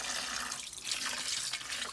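Cold tap water runs steadily into a sink while something is being washed, a continuous splashing hiss with small shifts in the flow and no talk.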